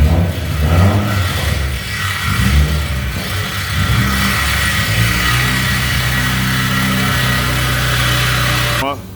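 A car engine revving with its Borla ATAK mufflers removed: a loud, raw, rumbling exhaust that rises and falls through several revs and then settles into a steady drone, close by, ending abruptly.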